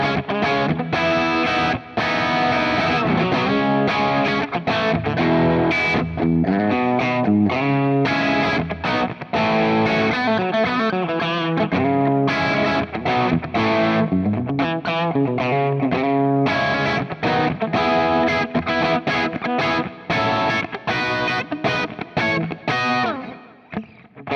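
Distorted electric guitar played through its bridge pickup at an under-$400 price point, a loud, continuous run of chords and riffs with effects-unit coloring and steady level, no talking.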